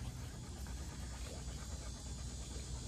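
A dog panting in quick, steady breaths close by, a continuous rhythmic huffing that runs throughout without any talking.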